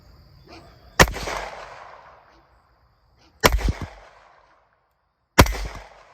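A Walther handgun fires three sharp, loud pistol shots at a steel target, spaced a couple of seconds apart outdoors, each with a short ringing decay and faint background between shots.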